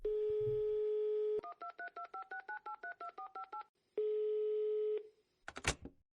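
A phone line's steady dial tone gives way to a quick run of keypad dialing tones while calling a kebab shop, then the tone returns before a short burst of noise, all clear and close.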